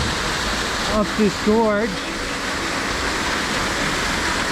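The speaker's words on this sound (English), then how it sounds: "Alrighty, we made it to our next Big Sur waterfall." A waterfall in a Big Sur creek gorge roars steadily as a broad, constant wash of rushing water. Someone speaks briefly over it near the start.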